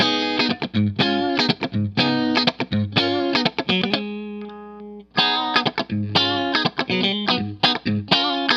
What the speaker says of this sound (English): which I think are the highest output Strat pickups that Jason Lawler makes.